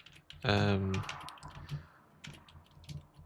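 Computer keyboard keys clatter in scattered irregular clicks, close and fairly quiet, while a voice speaks briefly near the start.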